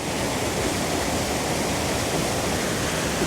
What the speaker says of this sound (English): we're going to try and do one more shot across these falls, incorporating this green moss and this torrential water